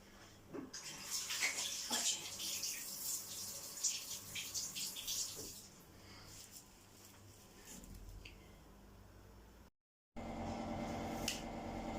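Hands being washed under a running kitchen tap while making börek, a faint hissing water stream with light splashes and rubbing that thins out, then a short break and a quieter tail of water.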